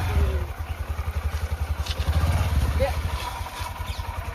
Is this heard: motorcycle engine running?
yes